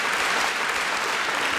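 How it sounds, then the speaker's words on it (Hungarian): An audience claps at a literary gala, the applause dense and even throughout, a sustained broadband patter from a full room with no voices heard. "Egy nagy tapsot hadd kérek"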